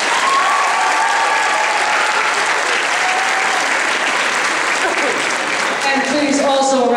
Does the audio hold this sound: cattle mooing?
no